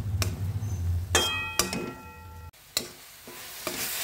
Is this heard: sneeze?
no